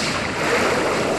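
Pokémon Sun video game attack Hydro Vortex unleashing water waves, a dense rushing surf-like wash filling the whole moment, loud and continuous, with no talking.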